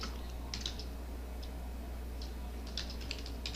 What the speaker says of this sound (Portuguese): Vamos digitar o texto aí